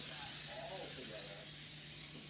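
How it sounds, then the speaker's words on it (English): A steady hiss of cooking spray from a can onto a muffin pan runs through the whole stretch, with voices talking faintly underneath. "Now we're going to spray the other one."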